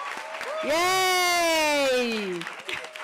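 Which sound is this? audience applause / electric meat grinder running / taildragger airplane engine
audience applause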